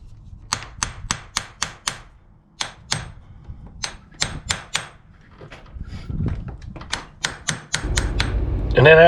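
Hammer striking horseshoe nails into a mule's hoof, sharp metallic taps in quick bursts of four to six blows separated by short pauses, close and clear, with a rustling scrape at the end.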